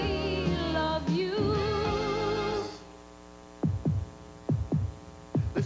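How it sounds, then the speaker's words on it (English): A heartbeat sound effect in a 1988 car commercial thumps in four deep double beats after a loud humming, tonal passage that cuts off abruptly. "Listen to the heartbeat."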